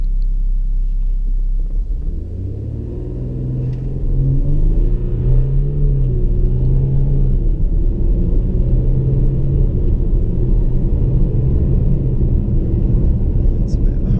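A diesel SUV, Jaguar F-PACE 30d or BMW X3 xDrive30d, accelerates hard from a standstill with the transmission in S mode and traction control off: a deep, loud engine rumble rises in pitch and holds steady, heard from inside the cabin.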